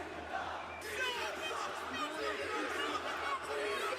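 A large crowd of ECW wrestling fans chants and roars together in an arena, a loud, continuous wash of many voices with rhythmic shouted chanting.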